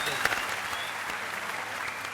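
A studio audience on a Turkish talk show applauds, a dense, steady wash of clapping that fills the short clip, with a brief voice under it.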